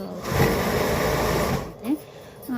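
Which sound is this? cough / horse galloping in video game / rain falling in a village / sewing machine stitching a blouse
sewing machine stitching a blouse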